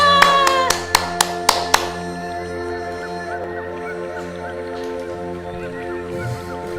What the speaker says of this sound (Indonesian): kita beri aplaus yang meriah buat Nabila